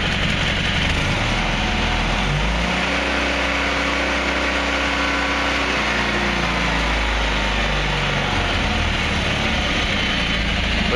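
A John Deere 317 garden tractor engine idles steadily and close by, a continuous low mechanical drone with no talking.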